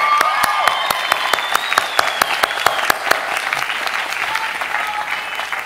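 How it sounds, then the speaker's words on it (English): A commencement ceremony audience bursts into hearty applause, dense rapid clapping from a large crowd that holds steady for several seconds, loud and unbroken. "So maybe we should give them a hearty round of applause of thanks."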